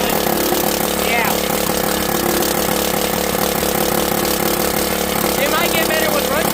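A lawnmower engine runs steadily just after its carburetor was cleaned, a continuous mid-pitched drone with slight surging, while someone talks over it up close.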